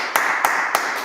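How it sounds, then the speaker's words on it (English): Audience clapping at a Sabbath service of the Israelite School UPK in Charlotte, four evenly spaced, crisp claps in a steady rhythm, close and moderately loud. "All right, give it up, clap it up."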